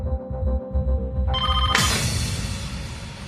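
A telephone rings loudly, its buzzing electronic tone growing brighter and then holding steady, alone with no voices.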